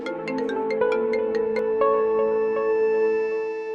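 A phone rings with a melodic electronic ringtone: a quick run of bright plucked notes, then sustained ringing tones that hold steady, loud and close, with no voices.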